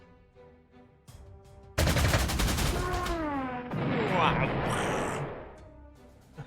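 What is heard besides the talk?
artillery explosion in Panzer Corps 2 video game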